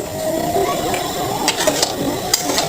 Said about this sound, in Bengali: এখন পোলাও দেওয়ার পর আমরা পোলাওটাকে ভালোভাবে নেড়ে নিব